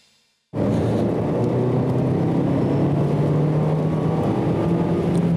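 A car driven in an extreme braking and cornering demonstration of racing technique, its engine a loud, steady, droning roar that starts abruptly after a brief moment of near silence and holds without a break.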